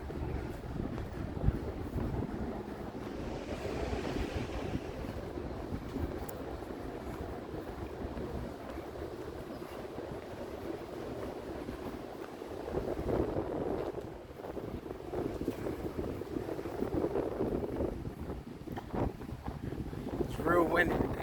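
Strong wind at an outdoor farmers market site buffets the microphone in a steady low rumble with gusts, and faint talk is mixed in.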